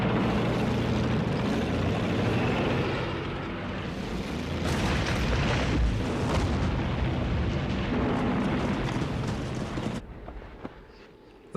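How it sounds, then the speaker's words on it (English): A massed Soviet Katyusha rocket launcher barrage during the Battle of Stalingrad in World War II rumbles as a dense, continuous roar of launches and distant blasts, loud and sustained before dropping away abruptly near the end. "with the rocket launchers they call Stalin's organs. Zhukov's massive army launches the offensive."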